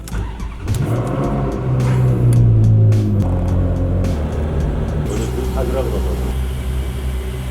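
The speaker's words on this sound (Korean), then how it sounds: "페라리도 우라칸도 다 시동을 걸고" Two sports cars, a Ferrari 488 and a Lamborghini Huracán, fire up on a road trip in Italy, one revving with a deep rising roar before both settle into a loud, rumbling idle, while a voice talks over them.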